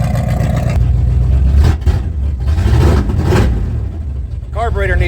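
A 1979 Ford Bronco engine runs loud and steady up close, breathing through its factory Y-pipe into a 3-inch exhaust with a 45-degree tip, its carburetor out of tune, rumbling continuously with slight swells in revs.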